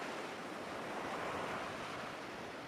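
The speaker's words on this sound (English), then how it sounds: "hypnotizing, enticing waves washing on the sand and then receding back toward the ocean" Ocean waves wash onto a sandy beach and recede in a steady, broad surf roar that stays constant and soft throughout, with no voices.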